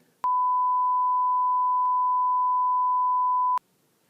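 A single long, loud electronic sine-tone beep blanks out a word in a spoken sentence, steady and unbroken for a few seconds before stopping abruptly.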